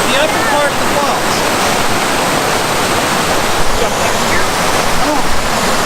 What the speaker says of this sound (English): This is the upper part of the falls.